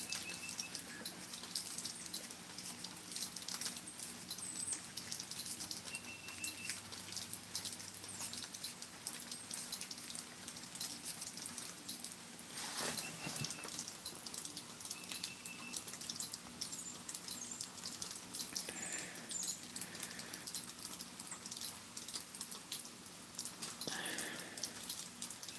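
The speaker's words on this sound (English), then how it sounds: "I'd rather it be snowing than raining." Steady rain falls outside on a dreary day, a constant close hiss of drops with scattered louder drips and faint chirps over a low background hum, with no talking.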